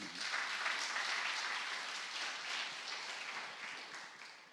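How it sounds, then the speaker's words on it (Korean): A church congregation at an afternoon worship service claps together, a soft, even wash of applause that holds steady and slowly fades toward the end. "박수 한번 더 쳐야 돼요"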